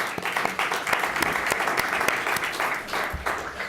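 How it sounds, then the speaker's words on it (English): Audience at an alumni of color reception giving a round of applause, a dense steady wash of many hands clapping throughout, fairly close and loud, with a few murmured voices underneath. "So let's give yourselves a round of applause."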